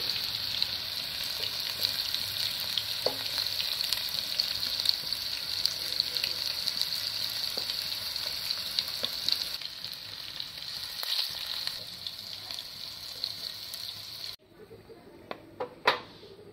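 Cauliflower florets frying in hot oil give a steady bright sizzle with occasional stirring clinks, continuing for about fourteen seconds before cutting to quieter kitchen handling.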